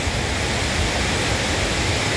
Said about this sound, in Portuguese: Bastante água, cachoeira aqui está uma maravilha